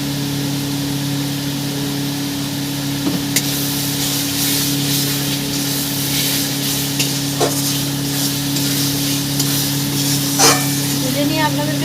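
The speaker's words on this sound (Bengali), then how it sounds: "দিয়ে কেটে রাখা টমেটোগুলো দিয়ে ভালো করে নাড়তে থাকবো" Chopped tomatoes with salt and spices fry in hot oil while being stirred in a pan, giving a steady close sizzle with occasional scraping clicks of the spoon.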